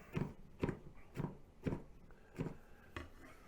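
Lemongrass being chopped with a knife, five or six fairly evenly spaced, firm thuds on a cutting board, close and moderately loud with no talking.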